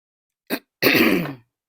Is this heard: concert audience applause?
no